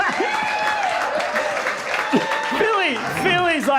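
Comedy show audience applauding, a short burst of clapping mixed with laughter and cheering voices, with a performer's talk and vocal sounds over it.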